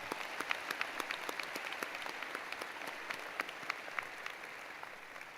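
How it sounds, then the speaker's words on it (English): Applause fills a spring 2024 university commencement hall after a speaker: a continuous, distant roar of many hands with scattered crisp nearby claps standing out, steady and uninterrupted by voices. "Let's give her another round of applause."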